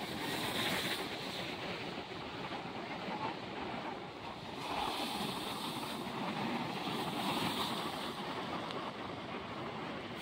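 Ocean waves break against the breakwater at Bico da Pedra in Imbé, Rio Grande do Sul, making a steady, rumbling surf roar. Gusty wind buffets the microphone throughout, and no one speaks.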